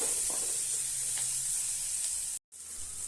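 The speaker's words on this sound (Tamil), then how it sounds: "தக்காளியை சேர்த்துருக்கேன் இது வதங்கட்டும்" Tomatoes sauté in a pan for a Tamil karamani kai kootu, a steady close sizzle with a brief silent gap near the end and no talking.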